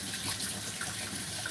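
Tap water runs steadily over hands being washed at a sink, a continuous, even hiss of flowing water, fairly quiet and alone.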